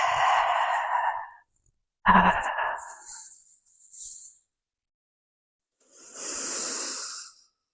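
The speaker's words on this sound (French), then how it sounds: "On inspire et on expire." Slow, deliberate breaths in and out through the mouth during a Pilates session, with several airy, hissing exhalations separated by silent pauses, close and clear.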